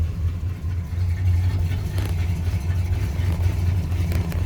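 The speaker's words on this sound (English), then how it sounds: "But I just had it running, so it should start up pretty easy here." A 1972 Chevrolet Nova project car engine running at a steady, loud idle, with a low, even rumble throughout.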